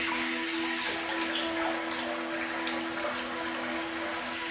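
Water runs steadily from a tap as shaving lather is rinsed off after a wet shave, a continuous close splashing hiss with no talking.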